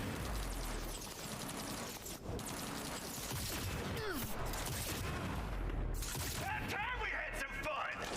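Gunfire crackles in a video game firefight, with bursts and booms mixed into a busy, continuous soundscape while people talk over it throughout.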